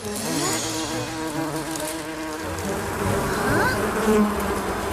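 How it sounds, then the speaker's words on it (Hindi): A close, continuous insect buzz drones steadily with wavering pitch, loud and alone, like a bee or fly hovering near. "इनमें से भिनभिनाने की आवाज आ रही है, मानो इसमें कीटाणु हो।"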